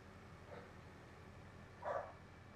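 Dogs barking off in the distance on a farm, two faint, muffled barks about a second and a half apart, the second slightly louder, over quiet background noise.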